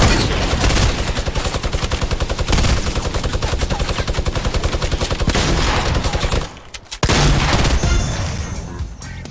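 Sustained minigun fire in Fortnite, a dense rapid rattle of shots running continuously and loud, broken by one brief pause before resuming at full volume.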